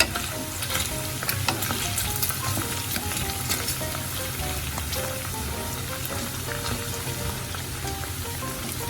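Pork belly frying in hot oil with fish sauce, a steady dense sizzle and crackle with occasional sharper pops and stirring clatter, close and continuous throughout.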